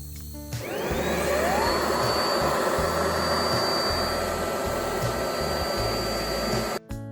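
A household vacuum cleaner drives a homemade cyclone dust collector for a sandblasting setup, starting up loud and close with a steady roaring whine and a rising tone, running continuously before cutting off briefly near the end.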